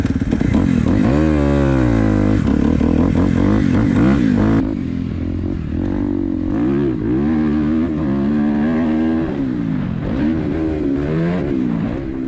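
Suzuki RMZ 250 dirt bike fitted with a Vortex ECU ridden hard, its loud engine revving up and down repeatedly through gear changes, close and continuous with no talk.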